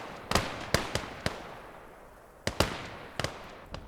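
Gunfire in the war game Call to Arms: Gates of Hell, sharp separate shots cracking out in irregular bursts with short echoing tails, loud and near.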